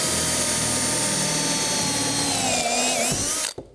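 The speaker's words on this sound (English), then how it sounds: "And in this case, we'll drill a second one," A power drill runs continuously while boring a second hole into steam-bent wooden window trim, its loud whine close and steady before the pitch dips and the motor cuts off.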